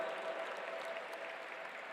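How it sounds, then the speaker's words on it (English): Audience applause at a G20 interfaith summit held in the World Peace Dome, a steady, even roar of many hands clapping in a large hall, heard continuously at moderate loudness with no talking over it. "A huge round of applause once again"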